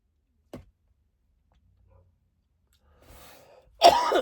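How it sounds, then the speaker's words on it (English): A faint click opens a mostly silent stretch, then a soft breath and a single harsh cough close the clip. "first cough in an hour"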